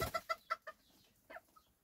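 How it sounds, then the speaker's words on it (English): Bantam hens, small chickens about the size of a dove, cluck in a quick series of close, moderately loud calls that fade into a pause, followed by one more cluck and a soft peep at the end. "So right behind me here, we have some of our different Bantam hens."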